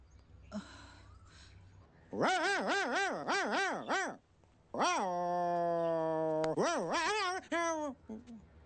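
A voice imitates a dog, producing a run of rising, wavering howl-like barks and a long sustained whine, loud and close, with no other sounds.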